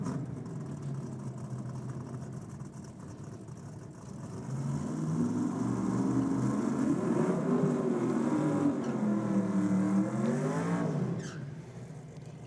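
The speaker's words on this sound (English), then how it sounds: "They get to do the burnout and everything again." Race cars at a 2023 Kenda 660 event roar through a burnout, engines revving and swelling in waves of rising and falling pitch, loud and sustained with no voices.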